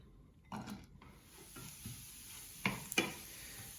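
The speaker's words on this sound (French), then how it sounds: "je vais aller cuire le bacon dans une poêle" Vegan bacon frying in a little olive oil in a pan, a soft sizzle punctuated by a few sharp scraping and clattering stirs near the end, quiet and close with no talking.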